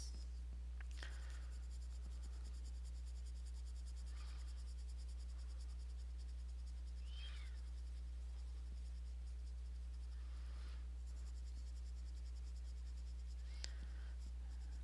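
A colored pencil scratching on paper in short strokes spaced a few seconds apart, faint and close over a steady low hum.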